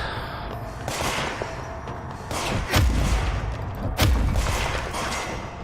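Gunfire in the game Control, a dense rumbling barrage of shots and booms, loud and continuous, with heavier blasts standing out near the middle and later on.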